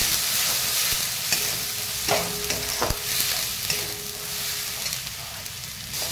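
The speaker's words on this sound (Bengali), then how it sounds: "এরপর ভালো করে আমি মশলাটা কষিয়ে নেব।" Spices with red chili powder fry for chicken in a pan, a steady close sizzle broken by a few sharp clinks of a spoon stirring against the metal.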